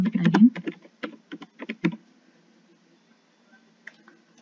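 A computer keyboard being typed on at close range, a quick burst of irregular clicking keystrokes that stops after about two seconds, followed by near silence with a couple of faint ticks.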